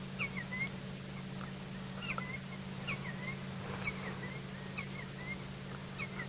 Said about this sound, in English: Now we're in the clearings and I can hear Senegal lapwings.